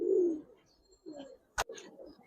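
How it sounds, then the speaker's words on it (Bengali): Old-breed Giribaz and black silver pigeons cooing up close, with a few low throaty coos broken by a brief sharp flutter or knock, and no voices. "সম্পূর্ণ পুরান জাতের কবুতর, একবার বড় কল্লার ভিতর।"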